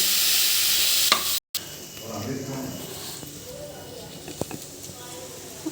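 Broad beans with coconut spice powder fry in a pan: a loud hiss at first, a brief cut, then a softer sizzle with occasional stirring clicks while a person talks.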